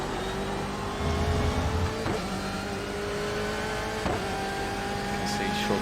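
A race car engine at Monza drones steadily at high revs, with quick upshifts marking short shifting, while someone talks over the engine.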